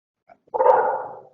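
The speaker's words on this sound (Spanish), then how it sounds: "Ah, caray, estoy escuchando un perro por ahí." A single dog bark, a short loud woof preceded by a faint yip, close and alone without any talk.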